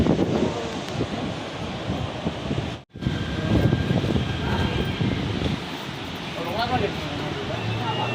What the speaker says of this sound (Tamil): இப்போ காற்று பயங்கரமாக அடிக்குது.